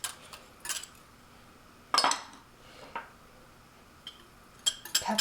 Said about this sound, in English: Let's mix all the dry ingredients into our bowl.